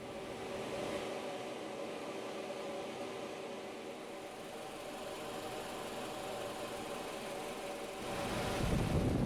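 A Honda Civic engine idles with the air conditioning running, a low steady hum and faint vibration that holds evenly before swelling slightly louder near the end.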